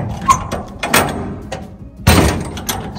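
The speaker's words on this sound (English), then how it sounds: "We're going to open these doors up." Large doors being opened on an equipment storage building, with a few knocks and a heavy rolling or sliding clatter, the loudest burst about two-thirds through, fairly close.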